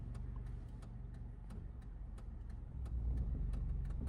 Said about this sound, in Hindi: इंजन का साउंड आपको सुनना है